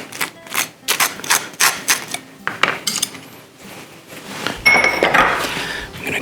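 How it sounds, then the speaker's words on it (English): A knife spreading butter on a toasted bagel, crisp scraping strokes in a quick irregular series, ending in a broader rustle and clatter close by. "I am gonna butter this a little bit."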